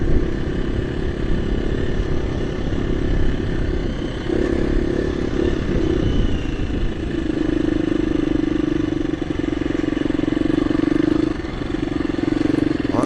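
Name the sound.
KTM EXC-F 350 dirt bike riding on chalky muddy trail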